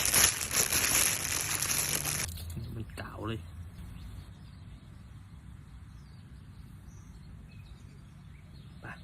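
Fishing bait mixed with water is kneaded in a plastic bag, giving a loud crinkly, squishy rustle for about two seconds. Quieter outdoor ambience follows, with faint bird and insect calls.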